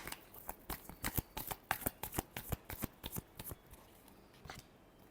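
Tarot cards being shuffled by hand, a rapid run of crisp riffling flicks and slaps close up, slowing to a few final taps at the end, with no talking.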